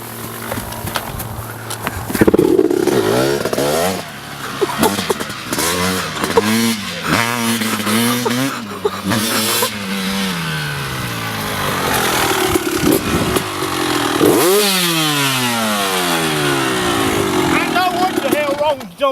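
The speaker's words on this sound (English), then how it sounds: "Hey, let me help you start it. No, you should bump start it." A dirt bike being bump started sputters and catches, then revs in repeated rising bursts and falls into a rough idle nearby. People talk over the engine noise.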